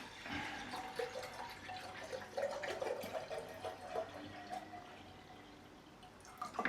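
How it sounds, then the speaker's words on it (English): Water pours and trickles into a kettle, with drips and splashes over steady running water, fairly close, no voices. "let's get the water in the kettle"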